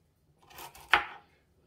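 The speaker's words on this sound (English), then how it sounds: "Just cut them up. Like that? Yeah, just cut them up small" Knife chopping beef into small pieces for an Asian-style ginger slow cooker dish, a short burst of cutting noise with one sharp, louder chop near the middle, heard close and alone.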